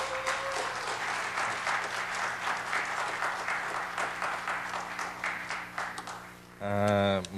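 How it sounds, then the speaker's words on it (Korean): Congregation at a Korean church prayer meeting gives sustained applause to welcome the senior pastor, steady clapping for about six seconds before it stops, followed by a short burst of amplified speech. "우리 박수로 환영해 주시기 바랍니다"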